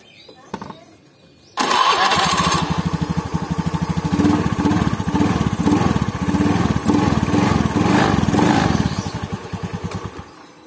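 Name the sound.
motorcycle engine idling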